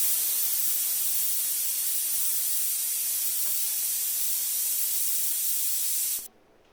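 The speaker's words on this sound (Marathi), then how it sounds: "आता कुकरचं झाकण लावूया मध्यम आचेवर पाच ते सहा शिट्ट्या घेऊन हे शिजवायचं आहे" A loud, continuous hiss of steam escaping from a pressure cooker cooking mutton curry holds steady, then cuts off abruptly just before the end.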